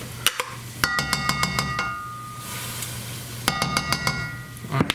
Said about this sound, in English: I'm gonna need a smaller spoon to get that soup out